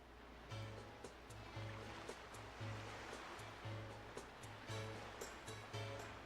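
Ocean water washes and swirls in The Legend of Zelda: The Wind Waker, a soft, steady surf hiss under a quiet, rhythmic musical pattern, faint overall.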